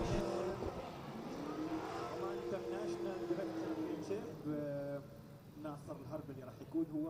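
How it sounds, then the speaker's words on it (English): A Nissan 350Z drift car at a championship event warms its rear tyres with sustained high engine revving and rising, wavering tones, heard from a distance beneath continuous commentary. "Nasser Al-Habali warms up the tyres on the back of that Nissan 350Z"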